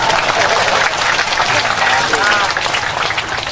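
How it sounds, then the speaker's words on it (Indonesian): A congregation at a humorous Indonesian Islamic sermon breaks into steady, close clapping that fills the short stretch, with voices murmuring underneath. "Kok tepuk tangan nih?"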